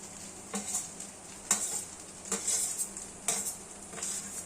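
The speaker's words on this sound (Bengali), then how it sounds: "এবার দেব লঙ্কা ভাজা" Chillies fry in a pan for fried rice, a soft sizzle broken by several sharp metallic scrapes and clinks of a stirring spoon against the pan, close and fairly quiet, with no voices.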